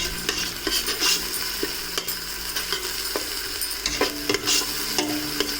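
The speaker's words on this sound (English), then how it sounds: "Brown these up together. The 2 carrots that have been grated, they're getting browned nicely now." Ginger and grated carrots sizzle as they brown in a pan for an Indian chicken and vegetable soup, with steady frying crackle, repeated stirring scrapes and light utensil clinks, no voices.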